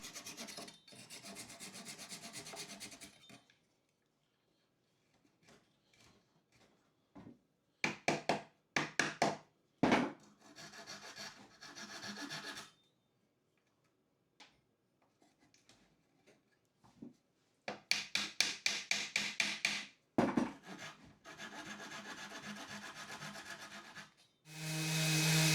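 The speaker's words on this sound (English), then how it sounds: "Cut them all flush and then the bench is almost ready." Wooden dowels being cut flush on a 2x4 outdoor bench, heard as bursts of rapid back-and-forth rasping saw strokes separated by quiet pauses, close and fairly loud.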